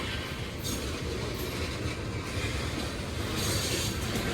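Union Pacific freight train rolling out of Hull Ave Yard, a loud steady rumble of wheels on rail with faint squeals and clatter, continuous and fairly close.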